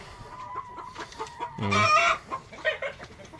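Rhode Island Red hens cluck at close range, with a loud burst of excited squawking in the middle, surrounded by scattered softer clucks and faint background bird calls.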